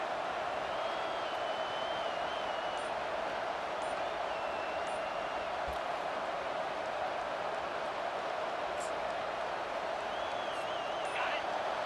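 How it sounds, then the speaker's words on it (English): A stadium crowd in the College Football 25 video game keeps up a steady, distant roar of cheering and noise that never lets up, with a commentator's voice running over it. "This crowd bringing the energy and noise early."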